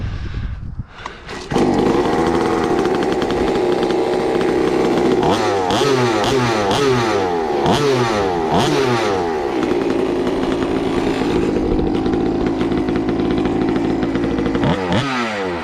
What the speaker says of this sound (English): let's go ahead and fire it up and let's do some hot laps